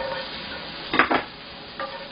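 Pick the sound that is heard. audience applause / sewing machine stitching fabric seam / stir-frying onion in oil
stir-frying onion in oil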